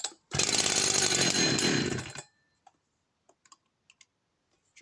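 A Husqvarna 61 professional chainsaw, a classic Swedish saw, roars loud and close for about two seconds before cutting off abruptly, followed by scattered faint clicks and small handling noises.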